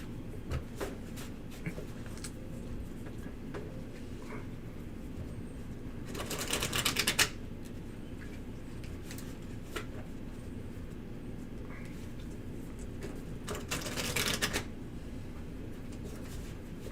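Soft, continuous rustling and light tapping of tarot cards, with two louder bursts of riffling shuffle several seconds apart.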